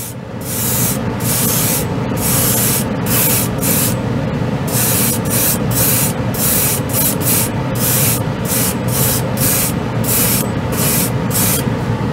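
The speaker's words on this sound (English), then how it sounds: "give it this treatment like a spray can" Continuous loud hiss of an aerosol can spraying white paint onto scale models, held down steadily with brief stuttering breaks, close up.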